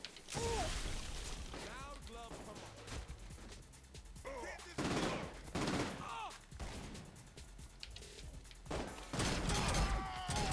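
Rapid gunfire bursts from the Saints Row IV video game, repeated sharp volleys and mechanical clatter spread across the clip with short pauses, loud and close, with game voices and music underneath.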